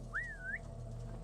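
A single short rising-and-falling whistle, used to lure guards in a Viking-themed stealth video game, sounds clearly over a steady low background hum.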